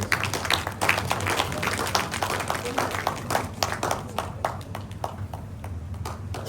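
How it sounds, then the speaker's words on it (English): A crowd at a ceremony with the Ooni of Ife applauds an ambassador, a dense burst of many clapping hands that slowly thins out, with voices faintly beneath. "A round of applause for him one more time."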